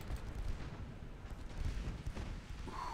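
Rumbling booms of naval guns firing high explosive shells in Ultimate Admiral Dreadnoughts, fairly faint and distant, several low thuds rolling together over a few seconds.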